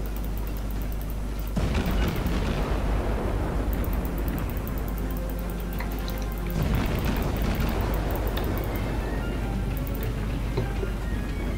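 Ship guns fire in the naval battle video game World of Warships, two heavy booming salvos several seconds apart, each a sudden loud blast over a constant rumbling ocean and engine background.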